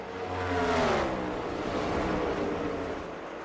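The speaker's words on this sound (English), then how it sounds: "Look how violent those cars are coming off of turn 2." NASCAR stock cars roar hard off turn 2 at the Coca-Cola 600, a loud rising engine howl sweeping past and fading slightly, with no voices over it.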